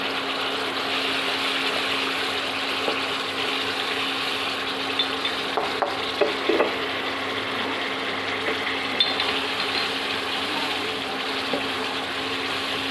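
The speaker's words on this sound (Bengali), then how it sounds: "আবার আমি পনির বাটার মশলাটা দিয়ে দিচ্ছি" Paneer butter masala cooks in a pan with a steady, continuous sizzle and bubbling hiss, joined by a few faint soft clicks and taps near the middle.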